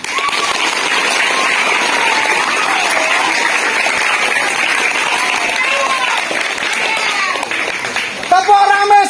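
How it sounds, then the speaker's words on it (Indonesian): A large troop of junior high school scouts at a school gathering applauds loudly in a dense, sustained roar of hand claps, with voices calling out over it and a few sharp claps near the end. "kita tepuk tangan yang meriah dulu"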